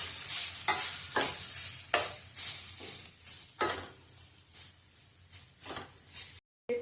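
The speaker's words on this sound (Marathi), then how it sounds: "मीडियम गॅसवरती हे चांगलं आधी 1 ते 2 मिनिटं परतून घ्यायचं आहे चांगलं तुपात।" Grated coconut stirred and sautéed in ghee over a medium flame for traditional Maharashtrian ukadiche modak, giving soft frying sizzle broken by repeated scraping stirs of the spoon, close and fairly quiet, with no talk.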